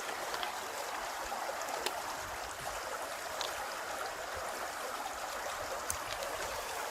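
Faint, steady water flow from a stream, a soft continuous hiss and light trickle with occasional small splashes, heard from a short distance with no talk.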